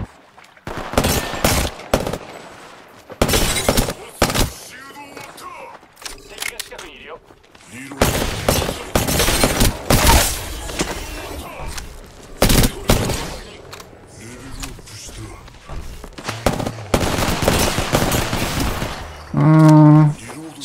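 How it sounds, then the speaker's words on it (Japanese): Dense Apex Legends combat with rapid bursts of gunfire, heavy airstrike explosions and booms in quick succession, loud and near, with a tonal game sound near the end. "どこ行っても空爆やこれ"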